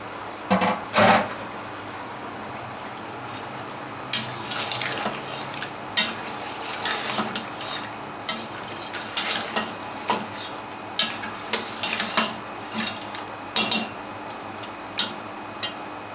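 Goat meat frying with masala in a pan over medium-high heat, a steady low sizzle broken by repeated sharp scrapes and clinks of a spoon stirring against the metal, with no talking.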